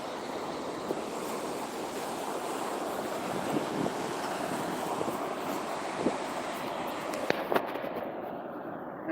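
Night surf rolls continuously onto a beach, a steady broad wash of breaking waves with occasional louder crests and faint wind noise, no voices.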